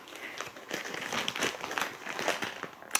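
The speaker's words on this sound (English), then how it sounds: "let's unwrap this camera" Plastic packaging crinkles and rustles continuously as a Sony FDR-AX53 camcorder is unwrapped close by, with irregular crackly bursts and a sharp click at the end.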